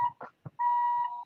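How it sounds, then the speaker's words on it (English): A steady electronic beep holds for about half a second after a few short muffled knocks, clear and close. "The beeping. It's beeping."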